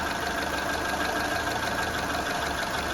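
A car engine idles steadily while its speed drifts up and down as the power steering switch voltage drops from 14 to 0, a continuous close mechanical drone with a faint knocking rhythm, no talking.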